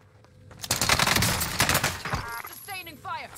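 Gunfire in the Call of Duty Warzone video game: a dense, loud burst of rapid automatic shots and cracks that tails off into chirpy effects, with a player's voice talking over the action.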